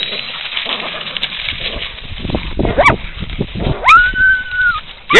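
Coon dogs out on a hunt, with yips, whines and a long drawn-out bay rising over rustling movement outdoors, the calls irregular and close.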